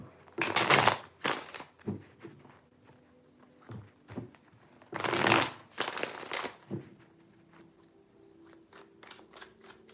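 Tarot cards are shuffled in several crisp riffling bursts, two of them loud and long, with softer taps and slides of the deck in between, close up and without talk.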